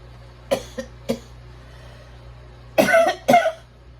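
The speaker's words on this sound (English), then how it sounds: "I got a little bit of a cough." Several dry coughs: three short ones early, then two heavier, harsher coughs after a quiet pause.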